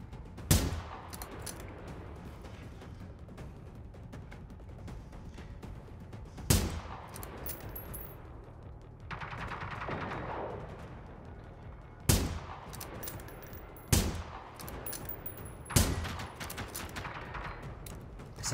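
Bursts of gunfire in the video game Generation Zero, several sharp loud shots spaced a few seconds apart over a low continuous rumble, with no talking.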